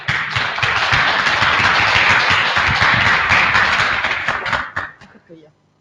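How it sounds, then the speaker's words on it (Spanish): An audience at a talk applauds a speaker, a loud, close burst of clapping that holds steady for several seconds, then thins to a few scattered claps and stops, with a voice briefly heard. "Y un aplauso para Camila."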